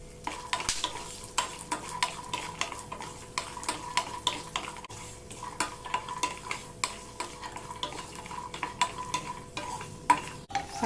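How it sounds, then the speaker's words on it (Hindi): Dry fruits and raisins roast and sizzle in a pan with a steady frying hiss. Frequent scraping clicks come from stirring. The sound is close, moderately loud, and no one speaks. "सारे ड्राई फ्रूट अच्छे से रोस्ट हो गए"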